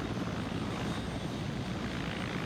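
Helicopter in the video game Arma 3, a steady loud engine and rotor roar filling the scene without pause, heard alone with no talking.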